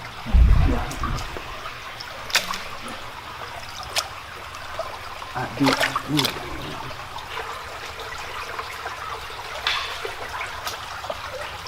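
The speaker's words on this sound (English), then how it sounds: "they're initially greeted by the soothing sound of water gently dripping through the shadows" Water trickles and drips inside a forest tunnel, a continuous faint wet trickle with scattered sharper drops echoing through the space, heard alone without talk.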